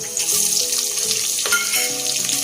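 Loud, close sizzling of onion frying in oil after whole spices, a dense steady crackle with faint stirring scrapes.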